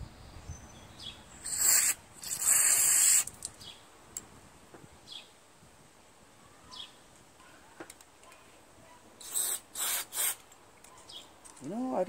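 Short hissing bursts of carburetor cleaner are sprayed into a Honda GCV160 lawn mower carburetor: two bursts early, a quiet gap with faint handling noises, then three more quick sprays near the end.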